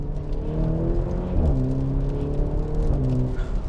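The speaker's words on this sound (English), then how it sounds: "Oh, listen to those upshifts." A Maserati Grecale Modena's engine revs up and drops pitch twice as the paddle-shifted gears upshift, a steady close drone throughout.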